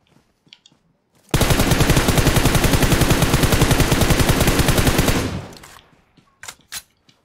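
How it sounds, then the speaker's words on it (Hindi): Sustained automatic gunfire in the battle royale video game PUBG, a rapid, dense burst of shots lasting about four seconds that cuts off abruptly, loud and close, with a few scattered faint pops before and after. "मुझको अभी भी गोलियों की आवाज आ रही थी"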